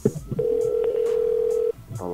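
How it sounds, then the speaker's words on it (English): A steady telephone tone after a handset is hung up, one sustained beep lasting over a second, framed by brief clicks and handling noise. "So you just hang up that phone."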